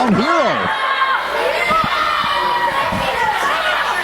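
Crowd at a live wrestling show cheers and chatters steadily throughout, a dense roar of voices with a few sharp shouts, while a commentator talks over it.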